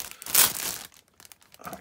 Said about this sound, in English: it comes with in two plastic bags for the main parts, which we'll have a look at first